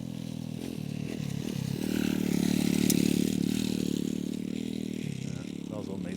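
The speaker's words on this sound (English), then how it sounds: "Here's a whopper on a scrambler bike." A scrambler motorcycle engine rumbles as the bike passes, its low throaty drone swelling to a peak midway and then fading, with a voice audible faintly underneath.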